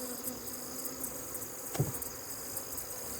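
Honeybees buzzing around an open beehive during hive reassembly, a faint, steady, close hum with a single soft knock partway through and no talking.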